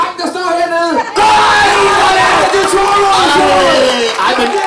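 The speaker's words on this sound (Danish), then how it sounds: "klapper af den fantastiske, flotte, forrygende, smukke dreng, der står hernede" A park audience at a children's jazz concert in Lindevangsparken breaks into loud, dense clapping and cheering for a boy, right after a brief voice, and it carries on steadily to the end.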